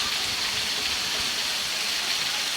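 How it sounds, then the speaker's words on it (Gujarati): Heavy rain with large drops pours steadily onto a surface, a dense even hiss with no breaks and no voices. "આ કોટડામાં વરસાદ છે મોટા ફોરા"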